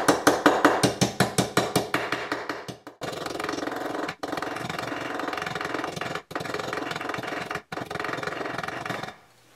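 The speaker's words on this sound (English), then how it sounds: "I'm actually going to switch to the smaller head on my embossing hammer as well" An embossing hammer with a small head strikes metal while shaping jewelry hoop earrings, a rapid series of sharp taps, then dense continuous hammering that stops briefly several times before ending.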